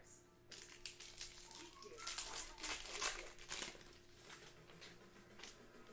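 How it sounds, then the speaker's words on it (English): Foil trading card packs, including a Panini Mosaic basketball cello pack and Contenders draft picks packs, being ripped open up close, giving a run of crinkling, crackling tears of several seconds with faint talk in the background. "so now let's rip them open"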